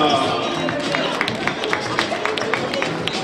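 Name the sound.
audience applause for Linda at a fashion show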